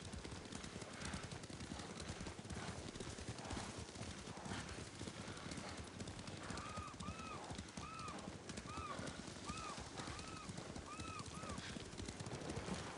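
Rapid, steady clip-clop of horse hooves in the video game Ghost of Tsushima throughout, with faint bird-like chirps in the middle stretch.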